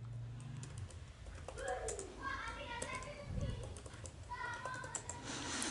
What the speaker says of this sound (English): And then I have to type the new password for it.